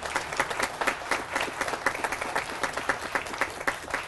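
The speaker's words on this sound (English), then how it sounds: "Please give Felipe a round of applause." An audience applauds steadily at an outdoor ribbon-cutting ceremony for a downtown affordable housing community, with dense overlapping claps filling all four seconds at a moderate, even level and no talking.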